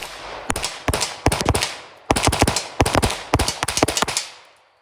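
Rapid strings of shots from a Springfield Armory Kuna pistol caliber carbine, loud and sharp, fired in quick bursts of three to six with short pauses between, each crack ringing out with a fading echo and no voices.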